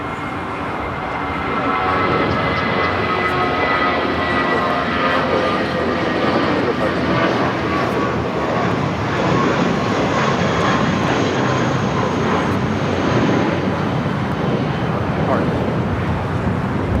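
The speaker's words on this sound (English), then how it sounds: "I just got stopped in my tracks by an MD-11." An MD-11 airliner passes at Los Angeles International Airport, its engines a loud sustained roar with a whining tone that swells in after a quieter opening and holds steady to the end, and a voice is audible beneath it.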